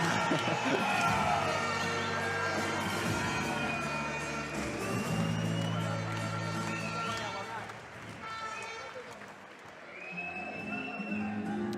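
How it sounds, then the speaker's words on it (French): Boxing crowd cheering in an arena during a fighter's ring entrance, a dense roar of voices and shouts with music mixed in, steady and loud throughout with a brief dip near the end, under talk. "La foule est en délire."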